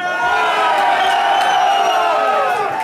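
Concert crowd at a rock show at SLO Brew, loud continuous cheering with whoops and whistles from a packed room, with a voice over the PA talking above it.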